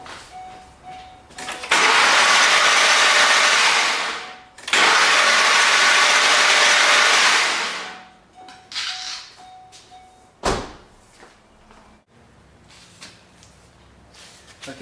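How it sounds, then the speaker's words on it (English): A Ford 4.6L 3V V8 cranks over twice in long loud bursts of several seconds each, during spark plug work with carbon cleaner in the cylinders, followed by quieter clanks and shop noise. "the next thing I'm going to do is go ahead and crank over the engine"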